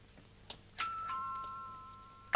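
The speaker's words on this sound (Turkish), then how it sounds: "Kapı zili." A doorbell rings indoors with a clear two-tone ding-dong, a short tap followed by a sustained chime that fades out.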